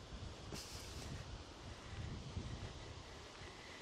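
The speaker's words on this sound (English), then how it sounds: "A little bit windy" Wind buffets the microphone in a steady outdoor rush at Kildrummie Castle in Scotland, with a few brief gusts and no talking.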